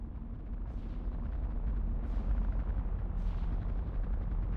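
Ship cannons firing in a video game naval battle, a dense continuous rumble of heavy booms with a few sharper blasts standing out, loud and close with no talk over it.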